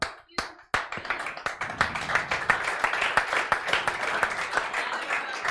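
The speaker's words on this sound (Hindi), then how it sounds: "तालियां बजनी चाहिए बेटा" A class of students claps during a lecture, with a few sharp claps at first, then dense steady applause building to a close, loud continuous patter.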